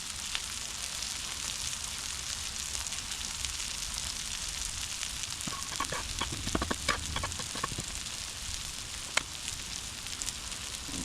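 Hash browns fry on a Blackstone griddle with a steady, close, broadband sizzle, joined midway by a few scraping, clattering touches of a spatula.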